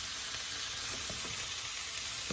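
Sherry is poured into a hot paella pan to deglaze it, producing a steady, close sizzle with a few faint crackles and pops and no talking.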